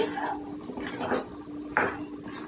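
A spoon stirring okra and prawn gravy in a cooking pot, then a lid set on top: a few soft scraping strokes followed by a sharper metallic clink, fairly quiet and close.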